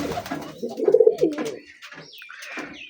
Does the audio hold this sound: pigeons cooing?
yes